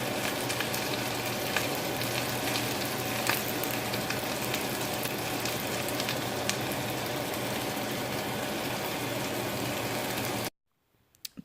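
A cheese quesadilla fries steadily in a lidded pan, giving a continuous close sizzle with faint crackles for about ten seconds before cutting off to near silence.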